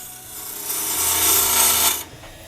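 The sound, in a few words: carbide tool turning wooden mallet on lathe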